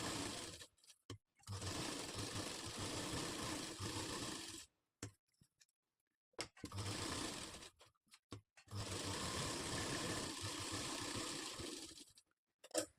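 Sewing machine stitching blouse lining to main fabric for a katori blouse runs in three loud bursts of steady whirring, separated by short pauses with faint handling sounds.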